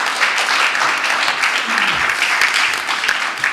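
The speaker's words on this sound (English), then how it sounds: "one round of applause for the entire team here" An audience at a legal conclave and awards ceremony applauds, dense steady clapping from a large crowd filling the room at close range.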